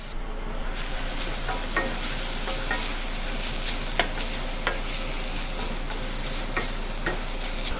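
Guyanese-style fried quinoa sizzling steadily in a hot pan, with a spoon scraping and stirring through it every second or so, close and continuous with no talk.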